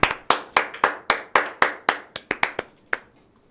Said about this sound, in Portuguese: Palmas pro vereador Matheus Batista.